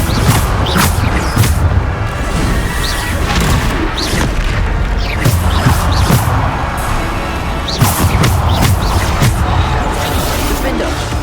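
Repeated Bombarda explosion spells in Hogwarts Legacy, a string of loud booms and crashes with whooshing casts in close, uneven succession, mixed with a voice and busy combat effects.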